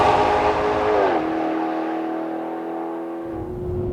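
A 2013 Maserati GranTurismo Sport engine revs hard and loud, drops pitch at a gear change about a second in, then keeps pulling with a steady, rising tone while accelerating.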